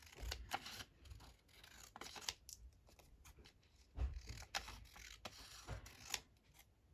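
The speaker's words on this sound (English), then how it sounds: "Going to cut this one out." Close-up scissors snip paper for a Christmas junk journal cover. A quick run of crisp, irregular cuts comes with soft paper rustling, fairly quiet and with no voice.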